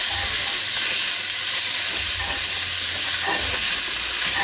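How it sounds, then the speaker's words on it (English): Spices bloom in hot oil for a veggie chili con carne, a loud continuous sizzle and hiss with scraping stirs in the pan, close up and with no talking. "And start blooming those spices."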